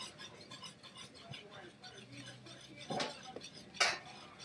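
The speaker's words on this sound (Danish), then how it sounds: "så tilsætter vi så de forskellige mel og solsikkekernerne, sådan stille og roligt, mens der bliver rørt rundt" Sourdough with flour and sunflower seeds is stirred in a bowl, giving soft scraping and a couple of brighter clinks of utensil against bowl, close and quiet, with people talking over it.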